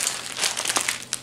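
A thin plastic shopping bag crinkles close up with dense, irregular rustling and crackling that swells and fades over about a second, with no voices.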